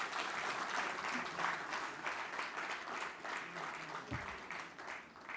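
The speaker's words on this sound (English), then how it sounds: "Can we have some more applause?" A master class audience applauds steadily, a dense wash of many hands clapping at moderate, fairly even loudness throughout, with no voices rising above it.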